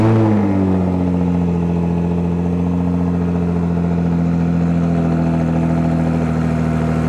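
An older car's engine runs with its exhaust rumbling close by in a low, steady drone with clear tonal harmonics. It holds an even idle with a slight pitch shift near the start and no voices over it.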